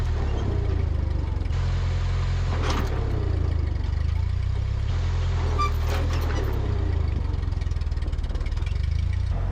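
A tractor in high sixth gear gently pulls a seized, rusty John Deere B forward: a steady, loud, low engine drone throughout, with faint clanks and rattles over it and no talking.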